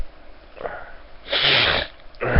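A single close sneeze bursts out after a quick sniff and intake of breath, followed by another short breathy burst at the end.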